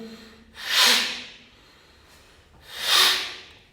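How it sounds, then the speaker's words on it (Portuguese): Two forceful, noisy exhales blown out hard, each a loud breathy rush about two seconds apart, close up with quiet between them. "Solta o ar com força. Tem que fazer ruído. É forte a respiração."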